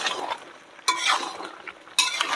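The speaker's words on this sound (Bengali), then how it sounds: "আলু দিয়ে মাংস দিয়ে এবার একসঙ্গে ভালো করে কষিয়ে নেব" Fried new potatoes and chicken are stirred together in a pan for chicken kosa, giving soft scraping with two sharp metallic knocks of a spoon against the pot, and no talk.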